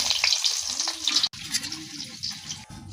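Food fries in hot oil, a continuous close sizzle with crackles and light stirring throughout.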